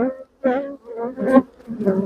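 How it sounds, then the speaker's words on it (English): Honey bees buzz close by at an open nuc colony, a loud droning hum that swells and dips in several short bursts with brief quiet gaps between them. "So this colony is going to be full to the brim with young bees now."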